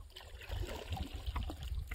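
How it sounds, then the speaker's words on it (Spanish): Small sardines splashing in river water in the plains, with gentle trickling and gurgling water, low splashes scattered over a soft continuous flow, faint and close. "Vea cómo salpican las sardinitas."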